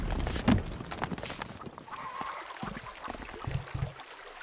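Horse hooves clip-clop in Stronghold Crusader, a few soft irregular thuds over a busy game soundscape with faint ambient noise.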